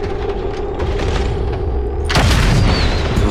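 Overwatch shot fired in the XCOM 2 video game, a sudden loud booming blast with a heavy low thump and lingering rumble after a stretch of quieter ambient game sound.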